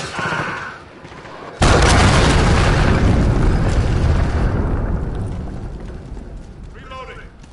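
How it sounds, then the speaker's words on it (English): An enemy cruise missile strike detonates in the multiplayer shooter Modern Warfare, played in VR: a sudden loud, close boom bursts in and then rumbles and slowly fades over several seconds, with faint game noise before and after. "Enemy cruise missile."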